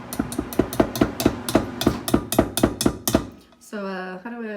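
A whisk knocks against a mixing bowl of blue corn crêpe batter in a quick run of about a dozen sharp, ringing taps, then stops and a voice speaks.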